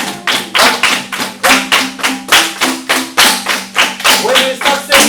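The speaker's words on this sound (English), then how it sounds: "So let's start with the clapping." Group hand clapping in a steady even rhythm for a traditional Zimbabwean folk song, loud, close claps repeating roughly three times per second, with faint voices underneath.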